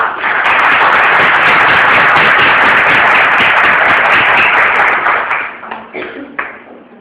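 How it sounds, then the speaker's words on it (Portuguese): A lecture audience breaks into applause, a dense, loud sustained clapping that holds steady for about five seconds and then thins out into scattered claps. "Vamos receber com uma salva de palmas."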